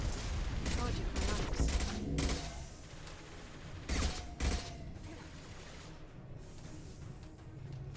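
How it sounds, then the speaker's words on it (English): Gunfire from shooting an enemy in the video game Mass Effect 2 comes as dense, loud bursts early on, then two more sharp blasts midway before fading into quieter game ambience. "just gonna shoot this guy"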